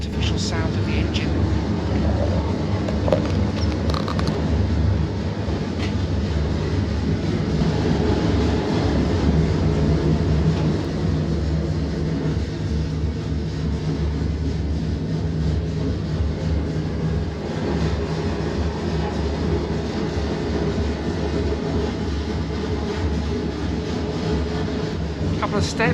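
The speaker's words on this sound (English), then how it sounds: "You can hear the artificial sound of the engine." A steady, loud low-pitched engine drone and mechanical rumble fills an enclosed space, continuous throughout with faint clanks and movement layered over it.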